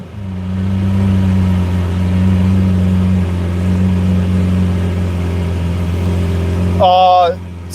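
A Lamborghini Aventador SV engine runs loudly and steadily with a deep, sustained drone, then briefly rises in pitch near the end as it revs.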